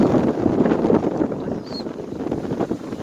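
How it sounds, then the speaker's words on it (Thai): Strong gusting wind buffets the microphone outdoors in Hsinchu, Taiwan, a loud continuous rumbling roar with fluctuating gusts and no speech. "ลมแรงแรงพี่น้อง ลมแรงแรง"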